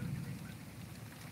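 Heavy rain falls during a tornado warning, a steady soft hiss of drops with a low rumbling undertone, faint and continuous with no talk.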